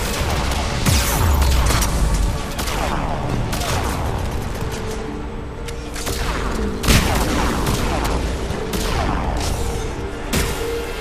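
Loud, dense bursts of heavy artillery and gunfire from Ravager units in the video game Mass Effect 3, with rolling booms and overlapping blasts across the whole stretch, and voices sometimes mixed in.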